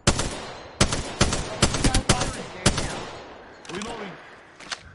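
Gunfire in the Apex Legends video game: a rapid series of loud, sharp shots in uneven bursts, some clustered close together, with a softer stretch and one final crack near the end.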